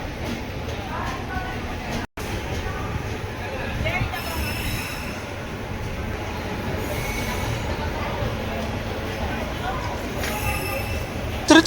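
Pallavan Superfast Express running on rails, a steady loud rumble of wheels and carriages throughout with squealing metallic tones, heard from close by, a brief dropout early on and voices faintly mixed in.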